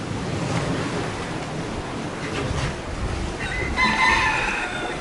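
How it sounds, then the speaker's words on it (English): Chickens crow and cluck faintly in Spanish Town in the British Virgin Islands, brief calls rising near the end over a steady wash of surf and wind. "Lots of chickens. A lot of chickens."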